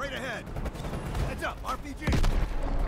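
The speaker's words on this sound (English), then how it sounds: "The firing is just too much" Gunfire in the game Call of Duty: Black Ops Cold War, with several sharp bursts and a heavy close blast near the end, mixed with in-game shouting and voices.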